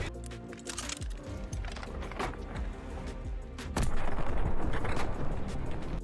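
MK11 launcher fired in the video game Call of Duty: Vanguard on the Tuscan map, a dense run of sharp game gunfire and blasts that builds to a heavier, louder roar near the end.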